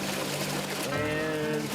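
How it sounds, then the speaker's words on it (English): Water pouring and gushing steadily into the cabin of a sinking car, a continuous close, loud rush with trickling over a low hum. "The water rushes in."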